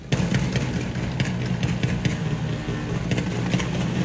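A motorcycle fitted with an open-pipe muffler runs close by with a steady, rough, throbbing drone and faint rhythmic pulses, alone without voices.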